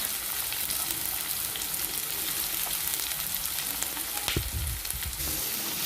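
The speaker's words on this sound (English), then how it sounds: "Now add chopped onion. I have taken 4 big onions finely chopped." Four large, finely chopped onions fry on high heat in a pan for an Indian dry chicken masala, giving a steady, close sizzle throughout with a brief clatter of stirring near the end.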